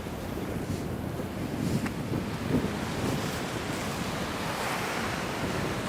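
Gusty wind buffets a beach during a kitesurfing session, producing a continuous, blustery roar of wind noise mixed with breaking surf that swells slightly now and then.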